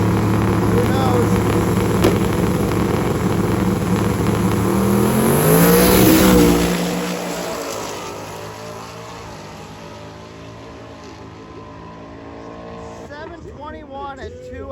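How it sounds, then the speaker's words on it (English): A Chevrolet Camaro drag car at a drag racing week event roars down the strip, loud and close at first, then fading into the distance as the engine note sweeps away, with an announcer talking over it. "Clark is up in the Camaro"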